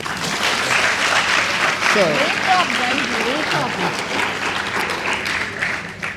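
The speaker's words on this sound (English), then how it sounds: "I think I deserve an applause, please." Audience applause fills a panel discussion hall, steady and dense for several seconds, with a voice speaking over the clapping partway through.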